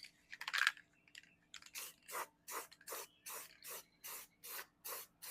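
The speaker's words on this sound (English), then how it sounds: "it's paint time. We're going to hit it with some actually satin white from Ace Hardware because I have a full can." A spray can of satin white paint hisses in short, regular bursts as a light coat goes on: about ten evenly timed, close sprays after a few small clicks and rattles.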